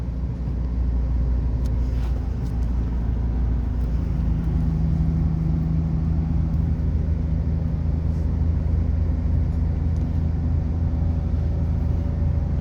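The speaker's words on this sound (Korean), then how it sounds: "지금 버스니까 좀 시끄러울 수가 있어요" Constant low engine rumble and road drone heard from inside a moving bus, steady and moderately loud throughout with no talking.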